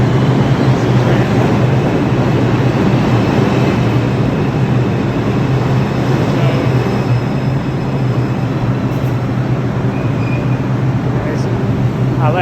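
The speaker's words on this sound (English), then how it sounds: "See the train right here. Getting into the station." A New York City subway train pulls into a station with a steady, loud rumble and a broad roar that fills the space for the whole stretch, and faint squeals rise now and then above the din.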